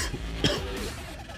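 A single short, rough cough from a person catching their breath after a first triathlon at Sand Hollow, Utah, close and brief against outdoor background noise.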